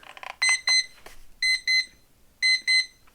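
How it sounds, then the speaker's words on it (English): A visual timer sounds its end-of-time alarm: three pairs of bright, high electronic beeps, evenly spaced and fairly loud, with faint room noise and a brief bump of background sound between them. "it will do a beep like that"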